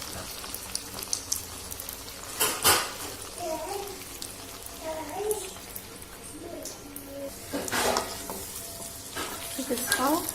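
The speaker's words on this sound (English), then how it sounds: "place it in heat oil and allow it for deep fry" Small prawn-shaped dough snacks deep fry in hot oil, a continuous bubbling hiss with occasional louder crackling bursts, heard close under a person's talking.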